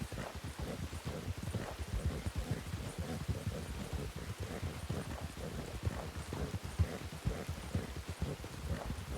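Shire horse hooves clip-clopping steadily in a video game, a dense, continuous run of close hoofbeats with a faint patter like rain underneath and no talking.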